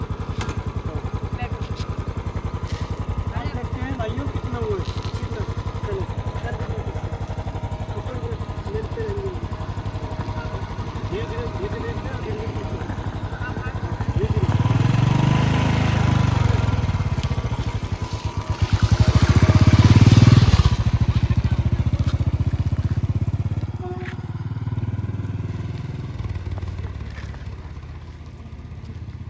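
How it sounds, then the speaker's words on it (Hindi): A motorcycle ridden by a learner hums at a low idle, then revs up and grows louder and closer for several seconds before easing off, with people talking over it throughout. "आज देखिए कितने इम्प्रूव है बाइक चलाने में।"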